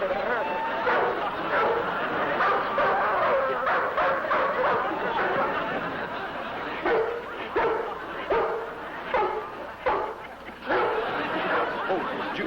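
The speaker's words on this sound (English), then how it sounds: "There's a big dog running loose in the yard" A big dog in a yard barks and yips in short, irregular bursts at middle distance, mixed with whimpers, while people talk over it.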